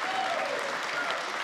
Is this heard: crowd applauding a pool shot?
yes